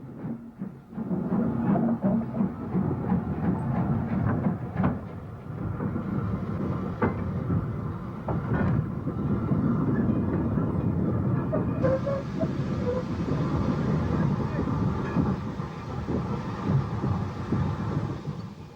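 Sustained rumbling and chuffing come from an LMS Class 8F heavy freight steam locomotive, Sir William Stanier's design, working near the Saltley shed. The noise is steady and loud throughout, with some brighter hiss partway through.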